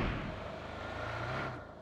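A vehicle engine rumbles steadily in a busy PUBG Mobile soundscape on the Erangel map, rising slightly as it draws nearer, then fading out toward the end.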